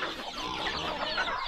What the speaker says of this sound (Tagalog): Daming sisiw natin.